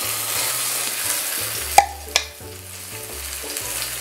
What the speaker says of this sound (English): We're going to saute this until the color changes, it gets into a deeper red.